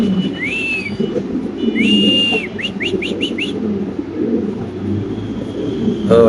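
Birds at a pigeon farm give a series of clear rising whistle-like calls: two longer ones, then a quick run of short chirps, over a steady background hum, with faint talk nearby.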